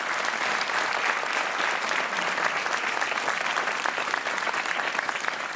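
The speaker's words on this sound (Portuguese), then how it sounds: "vamos aplaudir o David Claudino" Studio audience of the TV quiz show Joker breaking into loud, dense applause for a contestant, a continuous roar of many hands at even strength throughout.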